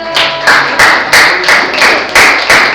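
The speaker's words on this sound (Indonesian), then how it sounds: "Tepuk tangan untuk kelompok 3." A classroom group claps together for a student group at a Muhammadiyah high school, a loud, steady burst of rhythmic hand claps in about seven even pulses, up close and without talk.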